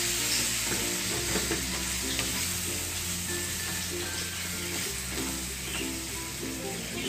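Half a kilo of ground chicken sizzles steadily in a hot pan for chicken menudillo, a continuous close frying hiss with occasional stirring, under a low steady hum and no talk.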